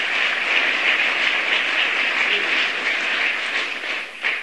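A gathering of U.S. mayors gives Mayor Joe Riley a round of applause, a dense, even hiss of many hands clapping that holds steady without talk before tapering slightly at the end.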